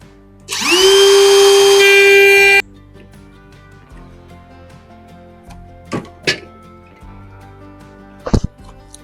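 A power tool cuts a wooden tenon in a single loud, rising whine of about two seconds, followed by quiet shop sounds and a few sharp knocks.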